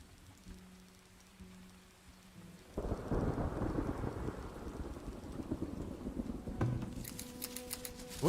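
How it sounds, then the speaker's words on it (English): Rain and rolling thunder from the video game Farthest Frontier: a soft patter at first, then a loud, steady downpour with deep rumbling thunder that builds and carries on to the end, with no voices. "the amazing sounds of the rain in this game"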